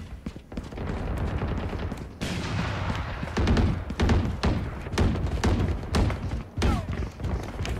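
Rapid gunfire in a video game, a dense barrage of overlapping shots and thuds that runs continuously for several seconds, loud and close.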